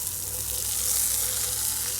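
Water rinses over old mine headframe wood in a steady, close wash of running and splashing water that fills the short clip at a constant level, with no voices.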